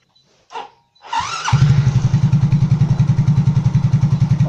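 A motorcycle engine cranks with a brief starter whir, catches and settles into a loud, close, rhythmic idle with steady pulsing beats that continue to the end.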